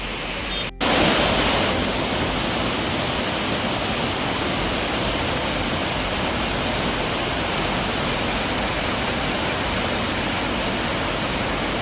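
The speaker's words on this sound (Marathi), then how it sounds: "इथे वॉटरफॉल" Waterfall beside a roadside hotel in the Konkan during heavy monsoon rain, a loud, steady broadband roar that holds unchanged throughout after a brief click near the start, with no talk.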